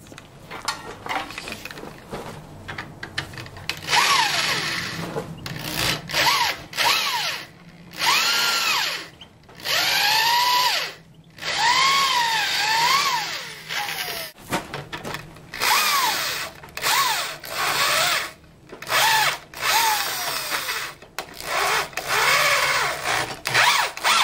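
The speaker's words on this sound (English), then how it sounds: "drill only one side, half of the beam, and then go on the other side and drill all the way through" A power drill bores through a wooden tripod beam in repeated bursts, its whine rising and falling as it bites, stops and restarts, close and loud with short pauses between runs.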